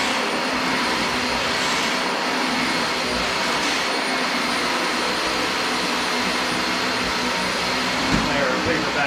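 A Dyson DC25 Animal upright vacuum cleaner with new filters roars with a loud, steady, airy motor whine at close range, continuous throughout with a brief knock near the end.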